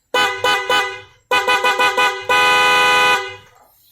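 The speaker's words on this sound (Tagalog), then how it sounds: "So, ito naman ngayon yung tunog ng busina." A new motorcycle horn on a CFMoto 450MT honks loudly and close in quick bursts, three then four short toots, followed by one long held blast that fades out.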